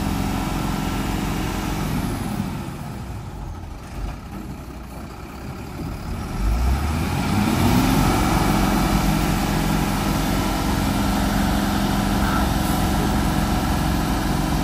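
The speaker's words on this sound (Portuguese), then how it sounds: "Olha o motor dele." A cattle truck's heavy diesel engine idles, then revs up harder and holds a loud, steady low roar as it strains to pull, close by and without talk.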